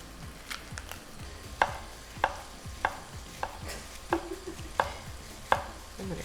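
Knife chopping onion and half a green pepper on a cutting board while bacon cooks for shrimp and grits, a run of sharp, uneven cuts with a faint kitchen hum underneath.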